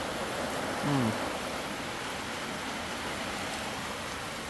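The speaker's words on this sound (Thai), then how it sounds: "ฝนตกหนักนะครับ ลมแรงมาก ๆเลย" Heavy rain with strong wind in Lan Krabue district, Kamphaeng Phet, Thailand, a steady dense hiss throughout with a faint voice briefly audible near the start.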